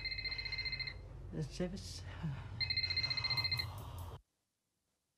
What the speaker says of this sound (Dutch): Ja, die telefoon ging niet echt, vermoed ik.